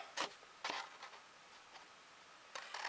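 Scissors snip the corners of a paper card, giving three quiet, crisp cuts spaced apart, with faint rustling of paper between them in a near-silent room.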